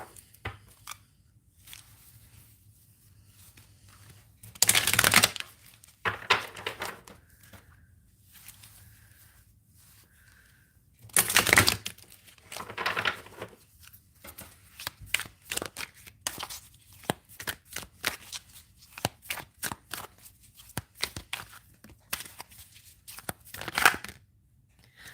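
Oracle cards being shuffled in a series of crisp riffling and flicking bursts, with two longer louder shuffles and many short taps and slides scattered between quieter pauses, close and dry.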